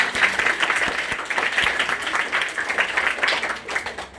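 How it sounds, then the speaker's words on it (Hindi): An audience claps at a public talk in Surat, Gujarat, the applause rising and falling in uneven bursts with a few sharper individual claps, fairly close and with no voices over it. "विज्ञान के लिए जोरदार ताली"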